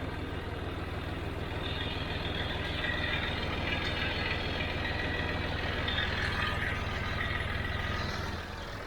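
A tractor engine idles steadily on a farm during lime spreading with a wig-wag spreader, a continuous low rumbling drone at constant loudness and close range, with no talking.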